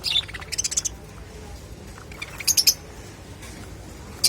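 A lutino breeding pair of pet birds gives short high chirps and tweets in scattered bursts over a faint background hum, fairly close and without talk.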